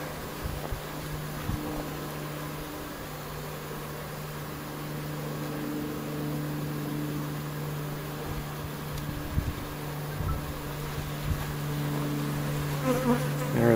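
Honey bees hum steadily on hive frames loaded with nectar and pollen, a close, continuous buzzing swarm that lasts throughout with slight swells.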